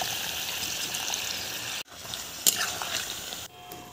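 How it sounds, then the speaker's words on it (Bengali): Water being poured into a pan of raw jackfruit curry with goat liver and boiled potato pieces, a steady trickling gush with a short break partway and a brief clink, fairly close in a home kitchen. "প্রয়োজন মতো জল দিয়ে দিলাম।"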